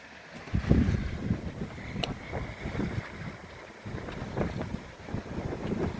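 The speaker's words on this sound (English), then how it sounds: "the waves are actually breaking through over the rocks" Waves breaking over rocks near a boat at an anchorage, a rough churning wash of surf mixed with gusty wind buffeting the microphone, continuous and moderately loud with no talking.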